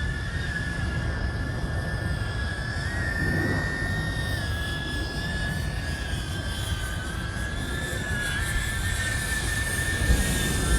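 HGLRC Veyron30CR cinewhoop FPV drone flying in wind, a steady high-pitched motor whine holding an even tone with slight pitch wavering over a constant rushing wind noise, continuous and fairly loud throughout, no talking.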